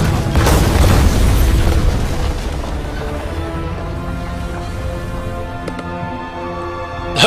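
Ship cannons in Fable 3: a loud deep boom opens, followed by a rumbling roar that slowly fades, with a few sharp cracks and another blast at the very end.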